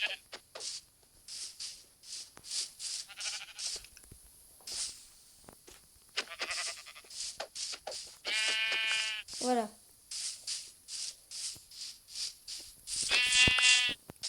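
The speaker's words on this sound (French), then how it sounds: "Ah tiens, 2 autres moutons." Minecraft sheep bleat in two clear drawn-out calls amid a steady patter of blocky footsteps, with a voice speaking briefly.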